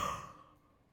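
A single close, breathy yawn exhaled by a person, loud at the start and trailing off quickly into quiet.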